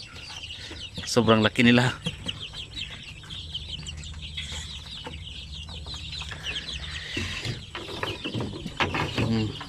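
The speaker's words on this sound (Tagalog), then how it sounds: "Yung nakita nyo dito yung aking rooster na basilan, ito na po yung anak nila" Basilan roosters and their offspring cluck and call on a backyard poultry farm, bursts of fowl vocalizations rising loudest near the start and end over a steady ambient bed, with a person speaking briefly.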